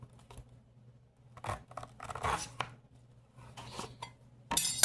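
A knife cuts down the middle of a squash, giving several close, crisp scraping and crunching strokes in short bursts separated by quiet pauses, with a louder final cut at the end.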